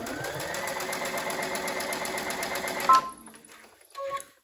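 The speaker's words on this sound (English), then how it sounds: "And then just keep on sewing." A sewing machine stitches the edges of scrunchie fabric in a steady, fast mechanical whir that runs close and continuous for about three seconds, then stops with a click and a few faint handling sounds.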